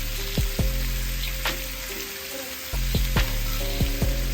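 Bacon and sausage frying on a Blackstone flat-top griddle for breakfast: a loud, continuous sizzling hiss with occasional squeaky, tonal chirps and sharp clicks over it, with no talking.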